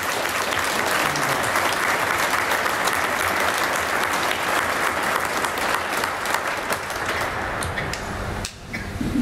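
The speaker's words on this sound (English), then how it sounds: "I think we owe John a big round of applause." Sustained, dense applause from a ceremony audience at a Jadotville Day commemoration in Athlone, continuous clapping that dips briefly near the end.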